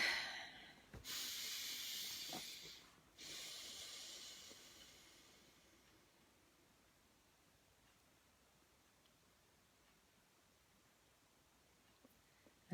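One slow, deep breath, a long hissing inhale followed by a softer exhale, close to the microphone, then fading into near silence.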